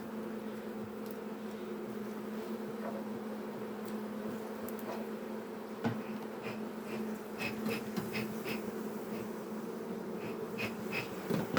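Honey bees drone steadily inside an open beehive, a dense continuous buzz close up with individual bees flitting past, no talking.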